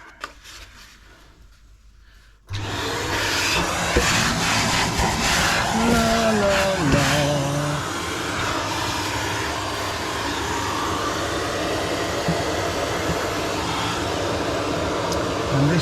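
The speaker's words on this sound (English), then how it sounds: "I'm going to vacuum that off." A vacuum cleaner switches on abruptly after a quiet start and runs steadily with a loud broadband whine while cleaning a tool, its pitch wavering briefly as it works.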